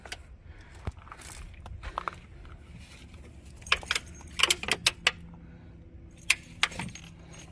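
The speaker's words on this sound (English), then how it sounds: "You hear the magnets clack?" Magnets snapping shut along the zippered mesh screen of a camping tent at a lakeside campsite, a series of quick light clacks and clicks in small clusters, fairly close, with faint outdoor background and no talk.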